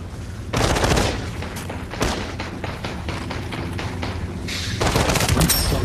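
Gunfire in the VR shooter Population One, with loud bursts of rapid automatic fire and scattered single shots and thuds cutting in and out across the round, and no talking.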